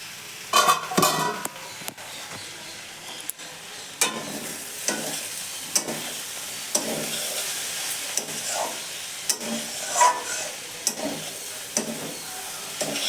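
Oats khichdi ingredients frying in a pan, a close hissing sizzle punctuated by repeated scraping stirs and spatula knocks at irregular intervals, no voices.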